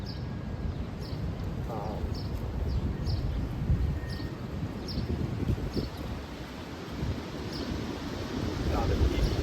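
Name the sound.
wind blowing outdoors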